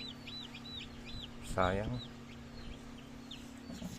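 Newly hatched native chicken chicks peep and chirp in repeated short calls under a steady hum, with a brief spoken word and a louder cluck in the middle.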